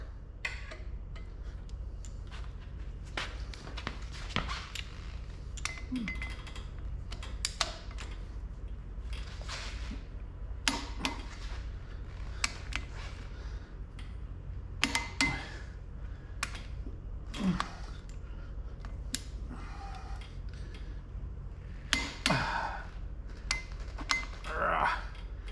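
Bolts torqued to 80 foot-pounds during a 1989 Toyota 4x4 overhaul, scattered sharp clicks and metallic ticks over a steady low hum, spaced irregularly at close range.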